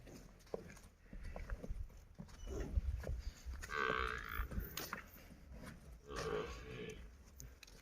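A water buffalo at a farm lets out a low, drawn-out moo close by, followed by softer grunting calls, with shuffling and hoof sounds in the quiet background.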